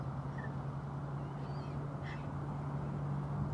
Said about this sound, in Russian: Смотрю, что-то там вороны делают.